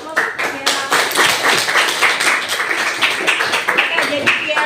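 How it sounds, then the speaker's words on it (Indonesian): Classroom applause for a student named Kiara: a short burst of brisk, close clapping from a group, with a voice speaking over it. "Kasih aplaus Kiara"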